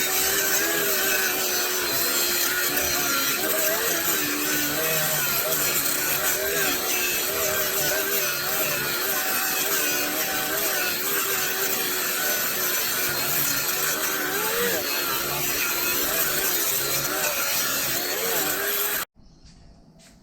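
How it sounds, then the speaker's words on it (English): A steady, loud rasping grind of a power tool cutting and grinding a metal part to fit a radiator, running continuously with a wavering pitch before cutting off abruptly near the end. "So I've cut and ground this thing as much as I can."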